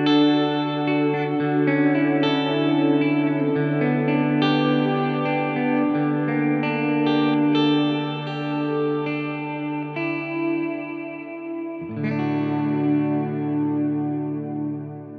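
Electric guitar picks a slow arpeggio through a clean JTM 20 amp with a lush Walrus reverb set around half mix, notes ringing and blooming into a synth-like wash before a new chord enters near the end.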